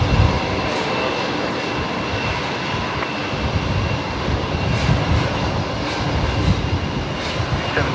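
A Jetstar Airbus A320neo jet engine roars steadily at close range, a broad continuous rumble filling the whole stretch without pause.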